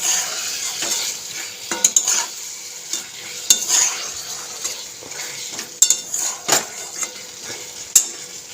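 A utensil stirs food cooking in a pot on a home stove, scraping and knocking against the metal in irregular close strokes over a soft sizzle, with no talking.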